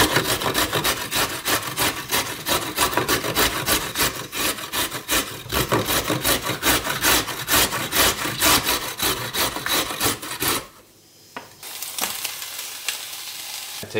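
Carrots being grated by hand for a lasagna, a steady rapid scraping rhythm that runs loud and close for about ten seconds, breaks off briefly, then resumes in a few scattered strokes.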